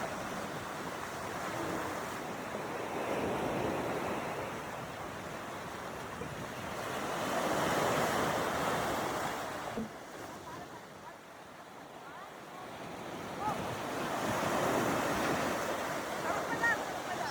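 Sea waves wash onto a shore at a hidden beach in Bacon, Sorsogon, Philippines, rising and falling in slow swells with steady wind noise; a person talks intermittently over the surf.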